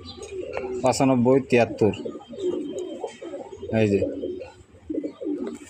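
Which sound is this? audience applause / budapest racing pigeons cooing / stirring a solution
budapest racing pigeons cooing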